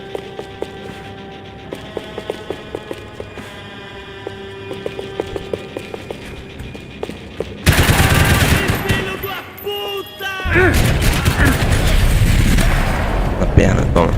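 Rapid gunfire crackles in bursts at first, then erupts into loud, dense shooting and booms in the game Max Payne 3, with voices talking amid the chaos.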